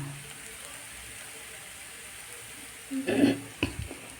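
Fenugreek greens (methi saag) frying in plenty of oil give a brief sizzle and stir burst near the end, after a quiet stretch of faint background hiss.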